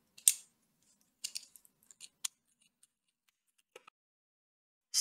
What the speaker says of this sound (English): you can cut this green yarn